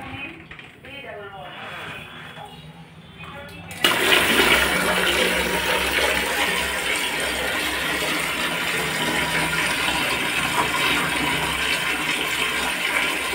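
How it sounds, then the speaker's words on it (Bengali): Water gushes loudly and steadily as containers are filled in a household ahead of the evening lamp-lighting ritual, starting abruptly after a few seconds of quieter room sound and continuing without a break. "তোমরা ভাবছো দিদি এখন জল ভরছে কেন?"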